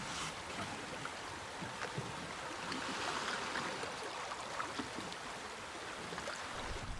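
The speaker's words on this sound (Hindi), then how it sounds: "चप्पू पानी के अंदर।" Oars paddle through water in a steady wash of splashing and rippling, faint and continuous with no voices.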